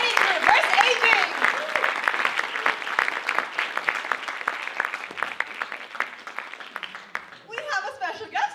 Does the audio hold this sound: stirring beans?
no